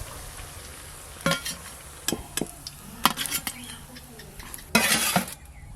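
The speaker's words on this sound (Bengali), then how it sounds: "বাদ বাকিগুলোও ভেজে নেব।" Kofta balls frying in a pan, a quiet steady sizzle broken by several sharp clinks and scrapes of a utensil against the pan at irregular intervals, no speech.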